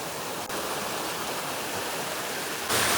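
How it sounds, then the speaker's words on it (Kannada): A small waterfall spills along a narrow stream beside farm fields, making a steady, close rushing hiss that never pauses and swells a little brighter and louder in the final moment. "ಇದು ನೋಡಿ ಇದೇ ಜಲಪಾತ."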